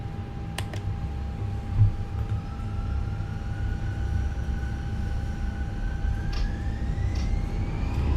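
Airbus A320 jet engines spool up for takeoff, a steady roar with a rising whine, accompanied by a few clicks and switch sounds in the cockpit.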